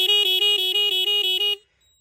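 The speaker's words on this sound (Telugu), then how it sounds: "5 సౌండ్లు అయితే మారుతుంది అనమాట ఈ రూట్ హార్న్స్ అనేవి" A loud electronic multi-tone horn on an old restored motorcycle pulses through a rapid repeating sequence of five shifting tones for about a second and a half, then cuts off.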